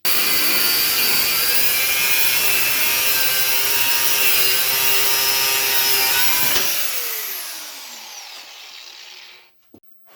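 Thick flat metal on a mower cutting deck is cut through with a loud, continuous, harsh sawing that runs steadily for about seven seconds, then slows and fades out.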